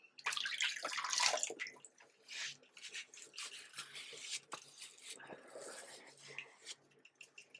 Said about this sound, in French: Et pareil, je rince.